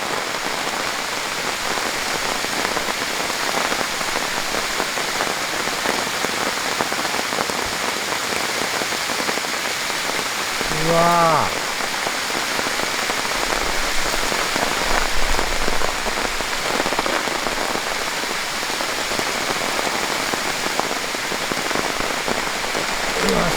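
Heavy downpour pounds steadily on a campsite at Shumarinai Lake in Hokkaido, a dense hiss of rain that never lets up, with one brief exclaiming voice partway through.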